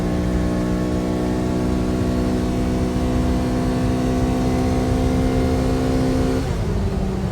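Kawasaki Ridge side-by-side engine held at high RPM, a loud, steady droning whine with strong sustained harmonics, heard from inside the vehicle, easing slightly near the end with no talking.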